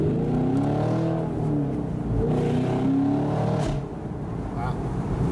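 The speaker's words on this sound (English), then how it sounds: "You get a lot of exhaust noise for sure." A Chevrolet Camaro SS convertible's exhaust rumbles loudly and steadily, its engine note rising and falling throughout, with people talking over it.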